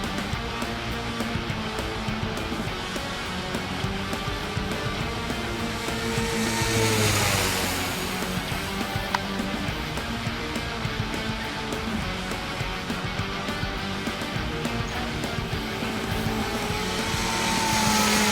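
A radio-controlled fixed-wing airplane's electric motor holds a loud, continuous high whine at full throttle for a long pass, swelling briefly as the plane flies nearer, with no talking.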